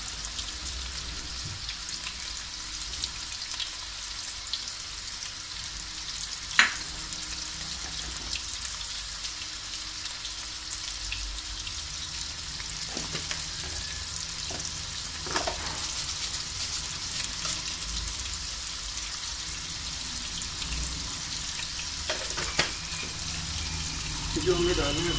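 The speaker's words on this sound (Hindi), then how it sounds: "इसके अंदर डालना है नमक और ज़ीरा और अदरक लहसुन का पेस्ट। थोड़ा सा इसको फ्राई करना है।" About 1.5 kilos of mutton sizzles in a pan with salt, cumin and ginger garlic paste, a steady soft crackling hiss with occasional pops and clinks, while a voice talks over it.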